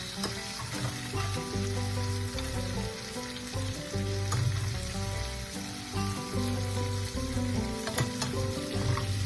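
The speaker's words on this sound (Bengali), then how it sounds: "আমি আর একবার এটাকে বাটার পরে ভাবছি কড়াইতে নাড়াচাড়া দেব" A ground prawn mixture is stirred in a kadai, giving a loud, continuous frying sizzle with repeated spatula scrapes and no talking.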